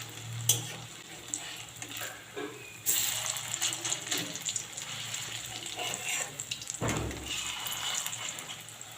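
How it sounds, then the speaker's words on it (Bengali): Flattened potato kofta balls fry in hot oil while being turned, giving a steady soft sizzle with occasional scrapes and clatters close by. "এবার ভালো করে আমি এপিট ওপিট উল্টে ভালো করে ভেজে নেবো কোপ্তা মতো করে।"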